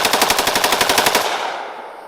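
An AKS-74U rifle firing 7N6 ammunition on a range lets off a loud, close burst of about a dozen rapid shots in just over a second, then the report rings out in a fading echo.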